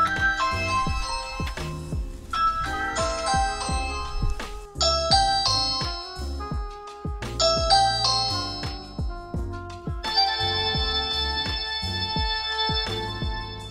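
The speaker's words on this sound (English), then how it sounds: "As you can hear, the chime rang when I pressed the doorbell." A Ring Chime rings out right after the doorbell is pressed, playing a sequence of bright, tinkling bell-like tones that fill the whole stretch, loud and close with no talking.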